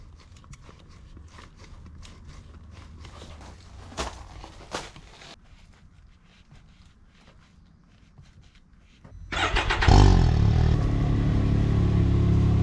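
A Can-Am Maverick X3 side-by-side's engine, running during a coolant change, starts up close and loud after several seconds of quiet shop noises and scattered knocks, then holds a steady, heavy idle to the end.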